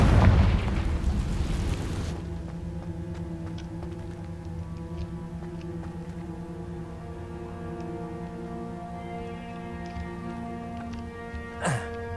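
A Confringo fire spell bursts with a loud, broad boom in the Hogwarts Legacy game, followed by a long ringing tonal tail and a brief sweeping whoosh near the end.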